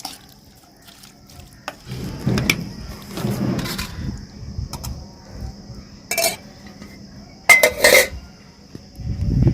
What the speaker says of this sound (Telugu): తిరువాత పెట్టిన తర్వాత ఒకసారి ఇట్లా కలుపుకుందామండి.